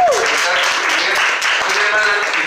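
Steady applause from a church congregation honoring a brother named Udiel, dense and continuous hand clapping filling the room throughout.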